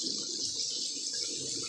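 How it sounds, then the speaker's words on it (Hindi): Hot water pours into a pan of fried fish heads during home cooking, a steady hissing, rushing flow close by that continues evenly throughout, with no speech. "अब इसमें मैं गरम पानी ऐड करूंगी,"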